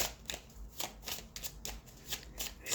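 Angel cards being shuffled by hand, a faint, close riffling with quick rhythmic flicks repeating about every third of a second, without speech.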